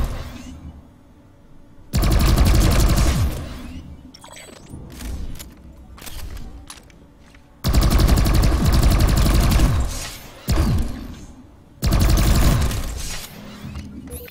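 Rifle fire in Planetside 2 comes in loud, sustained automatic bursts, three long volleys plus a shorter one, broken by quieter gaps with scattered single shots and mechanical clicks.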